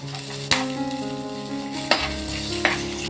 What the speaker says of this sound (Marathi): आलं लसूण चांगलं परतलेलं आहे